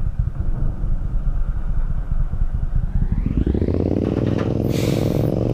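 A Honda parallel-twin motorcycle rides past on a hot day, its engine rumble rising and swelling in pitch as it nears, then a brief bright whine at the close. No speech.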